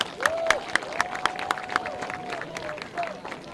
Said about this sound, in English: Everyone, round of applause for Thrushar.